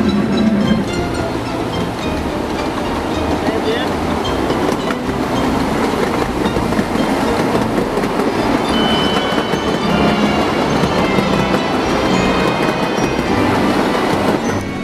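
A live steam model locomotive, CSX 200, runs laps on a ridable miniature railroad's main line, giving a loud, continuous rumble of wheels on rail with occasional squeal and rhythmic clatter, no voices.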